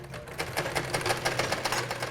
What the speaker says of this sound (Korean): 아이들을 학교에 보낸 집에선 재봉틀 소리가 가득합니다.